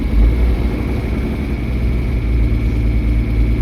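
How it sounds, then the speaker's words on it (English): An older engine idles slowly and unevenly while still cold, a loud, steady low rumble that runs alone throughout without any talk. "She's a little slow idler."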